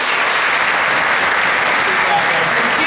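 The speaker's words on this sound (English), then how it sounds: "So give her a round of applause." Dense, loud applause from a school orchestra concert audience in an auditorium, a continuous wash of clapping that holds steady and fills the whole moment.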